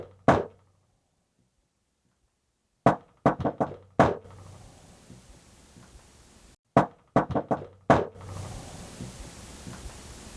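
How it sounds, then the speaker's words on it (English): Sharp knocks sound in a supposedly haunted house. One comes first, then silence, then a quick burst of four raps. After a short gap, another run of knocks rings out in a reverberant room. "it's 2 knocks at the end"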